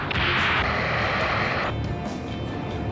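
A rocket explosion in the Ace Combat 7 flight game: a loud, sustained broadband roar that bursts in at once, holds and then drops to a lower rumble, with no talk over it.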